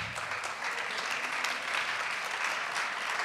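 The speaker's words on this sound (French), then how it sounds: "Mérite les applaudissements." Steady audience applause at a 2015 optimism-themed evening event, a dense continuous wash of many hands clapping that holds evenly throughout at moderate loudness.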